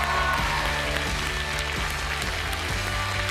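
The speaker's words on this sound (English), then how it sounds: "Give them a big round of applause" An audience applauds the finalist teams at a science challenge semi-final, the clapping steady and moderate over a low hum of stage music or room noise, continuing without a break.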